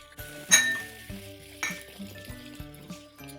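Tomatoes, beans, carrots, zucchini, potatoes, peas and cauliflower frying in a pan for South Indian vegetable kurma, with a steady sizzle under sharp clinks of a spoon against the pan.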